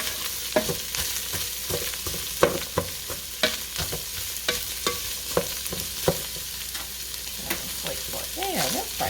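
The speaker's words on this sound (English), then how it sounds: "Just sauteing up a little bit." Chopped vegetables sauté in a soup pot for a cabbage and ground beef soup, a steady sizzle broken by repeated scraping stirs at an uneven rhythm, close and moderately loud, with no talking.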